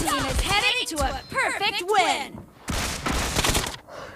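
Bursts of PUBG Mobile gunfire crackle through a 2-versus-1 fight, rapid volleys recurring under continuous excited talk from players.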